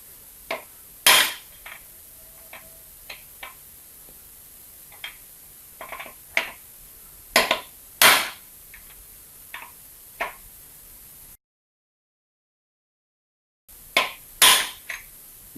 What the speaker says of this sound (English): definitely in this case you will have to use hammer, but you have to be very careful when you are removing the upper cone